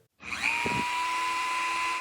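A small high-speed Dremel rotary tool with no attachment starts, ramps up in pitch, then holds a clean, steady whine with a strong single tone until it cuts off abruptly.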